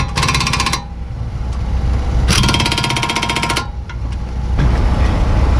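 Impact wrench or power tool tightening lug bolts during a brake pad and rotor replacement on a 2013 Honda Civic, with two long loud rattling bursts and a shorter third one over a steady low garage hum.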